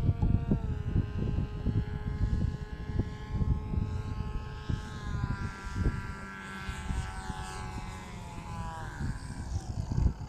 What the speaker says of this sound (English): come in so we can get a good upwind into the wind landing here